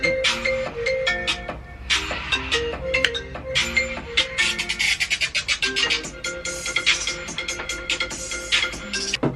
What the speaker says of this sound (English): Literally, when people call, I just watch and put the phone back down.